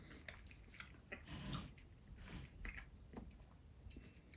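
Someone eats sweet and sour chicken with rice, producing quiet, close chewing and soft wet bites in irregular bursts against a faint background.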